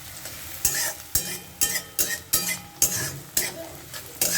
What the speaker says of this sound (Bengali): এবার এগুলো একটুখানি ভাজবো, একটু ভেজে নেব।